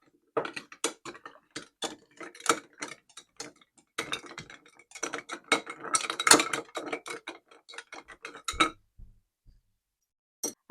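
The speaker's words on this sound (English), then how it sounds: "I'm just going to give this a good stir." A spoon stirring ice in a glass of gin sling cocktail with peach and orange juice, rapid clinking and rattling ticks in bursts, close and fairly quiet, ending in brief silence.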